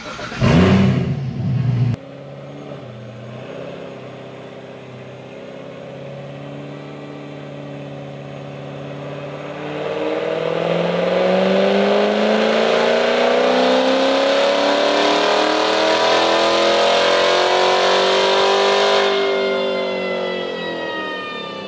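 A supercharged C7 Corvette Z06 with a Kong X-Port blower and full bolt-ons idles briefly on a dyno, then pulls hard, its loud engine note climbing steadily in pitch before easing off at the end.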